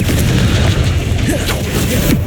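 Confringo spell explosion in the game Hogwarts Legacy, a loud booming blast followed by rumbling bursts that carry on for a couple of seconds.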